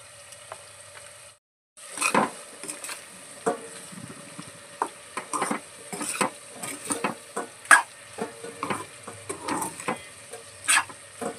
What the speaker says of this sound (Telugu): ఇప్పుడు కొంచెం సేపు అయితే వేగనివ్వాలి